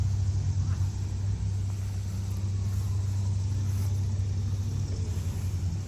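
An old 1935 John Deere A tractor at a county farm days show, its engine putting out a steady low rumbling idle, continuous and fairly close.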